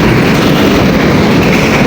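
An LRT light rail train passing close by at a Monumento station in Metro Manila, a loud, dense, continuous rumble and rattle of rail cars and wheels filling the whole stretch, with no talk over it.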